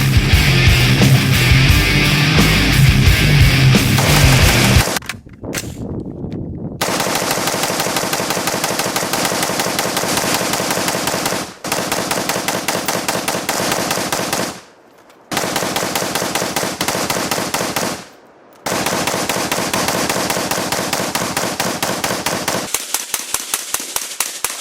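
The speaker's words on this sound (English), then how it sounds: "I wanted to get 500 rounds through the gun, through the trigger, as fast as possible" Rapid suppressed rifle fire through a Lantac ECT-1 single-stage trigger during a 500-round burn-down, loud sustained strings of fast shots broken by brief pauses, likely magazine changes, with no talking.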